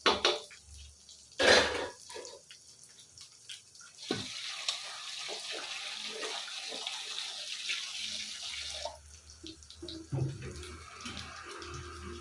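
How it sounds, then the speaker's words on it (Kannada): Fresh mint leaves are rinsed under a running kitchen tap, a steady close gush of water lasting several seconds, framed by a few clinks of a vessel. "ಈಗ ಪುದೀನ ತೊಳೆದು ಹಾಕ್ಕೊತೀವಿ"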